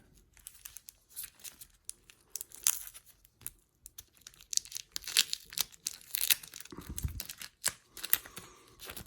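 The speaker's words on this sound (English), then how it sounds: "So all the Donovan Mitchell cards that you see me opening" Packs of basketball trading cards being torn open and unwrapped, with crinkling foil wrappers and sharp tearing bursts coming in irregular clusters, close and moderately loud, no talking.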